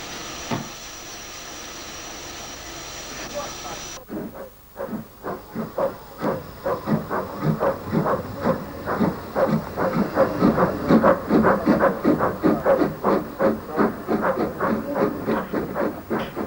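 Steam locomotive Sutton at Rolvenden, a steady loud hiss of steam for several seconds, then a pause and a rising run of rhythmic chuffing beats with clanking, close by and growing louder.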